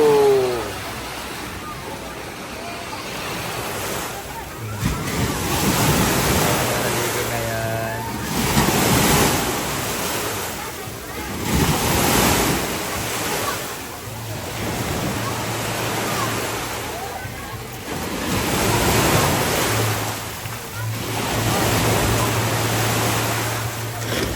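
Sea waves break on a beach in rainy weather, surging in repeated loud washes every few seconds with wind buffeting the microphone, while people talk and shout over the surf.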